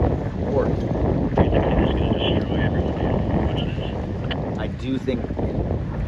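Steady wind roar and buffeting mic noise on an open skiff sailing during an October club race, loud and continuous throughout, with a person speaking briefly over it.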